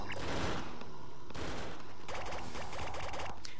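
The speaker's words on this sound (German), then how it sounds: "Ich höre den schießen." Rapid bursts of gunfire from the blocky shooter video game Brick Force, clustered volleys that crackle at moderate distance and repeat in quick succession with no voices over them.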